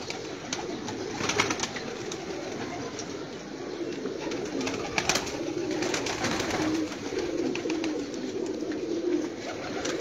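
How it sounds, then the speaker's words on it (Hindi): A continuous low murmur of many pigeons cooing together, steady and fairly close, with occasional soft clicks and shuffles. "बड़े बड़े अच्छे माशाल्लाह कबूतर ने।"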